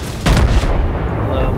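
Warship guns firing in World of Warships, one heavy booming salvo that rolls off into a low rumble, with the battle's background noise continuing afterward.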